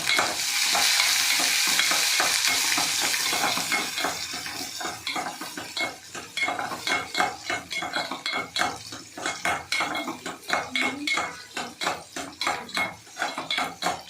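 Curry leaves and small shallots sizzling in a pan, with a spoon scraping and clattering against the metal in steady stirring strokes, loud and close with no voices.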